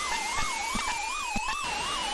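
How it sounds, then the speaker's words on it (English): A video game car chase carries a wailing police siren that rises and falls in a steady cycle, with engine and road noise and a few sharp knocks underneath. "Surely he's heard the police sirens."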